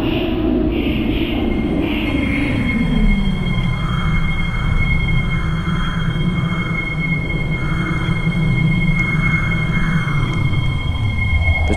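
Steady low rumble of a train arriving at a station platform, with a faint high tone and rhythmic pulsing, continuous and moderately loud, no talking.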